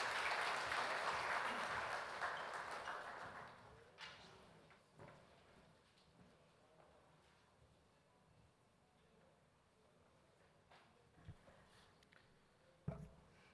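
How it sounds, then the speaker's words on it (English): An audience at a formal conference claps to welcome a keynote speaker; the applause is moderately loud for about four seconds, then fades into quiet room noise with a few scattered knocks and shuffles. "Can we all please welcome him with a thunderous round of applause?"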